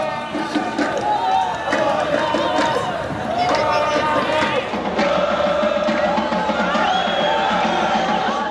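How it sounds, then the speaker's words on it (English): Thin crowd murmur and scattered shouts from a sparsely attended international football game in a stadium in Doha, Qatar, moderately loud with overlapping voices and occasional calls throughout. "This is a typical football crowd in Doha, almost non-existent."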